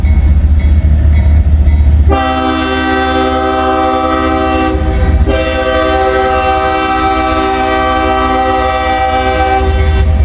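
A loud train horn blares with a steady chord, cutting out briefly and resuming, over the heavy rumble of a train passing close by.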